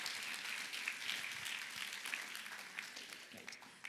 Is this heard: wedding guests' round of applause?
yes